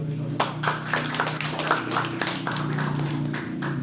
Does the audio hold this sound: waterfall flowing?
no